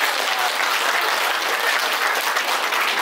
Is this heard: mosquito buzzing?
no